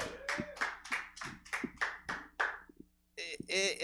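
Comedy-show audience applauds a comedian briefly near the end, a short burst of clapping and cheering following a host's voice.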